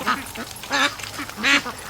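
A duck quacks near the microphone at a swamp where ducklings hatched, giving three loud, separated quack bursts in under two seconds with no talking over them.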